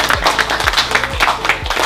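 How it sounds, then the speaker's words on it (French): Dense audience applause at a food competition event, rapid steady clapping from a nearby crowd filling the short burst at loud level, with a few low thumps underneath. "Applaudissez pour vous maintenant."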